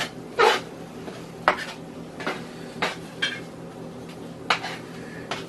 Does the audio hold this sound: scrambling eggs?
yes